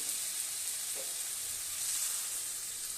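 Potato and prawn curry (aloo bagda chingri jhol) sizzling and frying steadily in a pan after water is added, a continuous bright hiss with a faint stir partway through, no voices.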